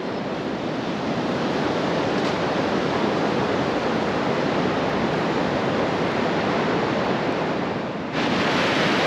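Ocean waves wash in along the Oregon coast at Cape Lookout, a loud, continuous broadband surf roar that stays steady throughout, with no voices.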